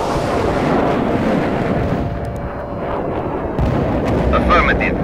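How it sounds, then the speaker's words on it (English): Anti-tank missile fire in the video game World in Conflict, a loud sustained rumbling roar of launches and blasts that dips briefly and then surges again, with a voice speaking over the battle. "Firing an AT missile."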